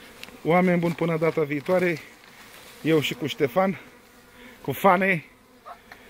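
Honeybees buzz at a beekeeping apiary in spring, a soft continuous drone beneath people talking close by.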